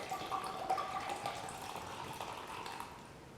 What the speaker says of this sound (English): So I'm emptying this out into the mixing container.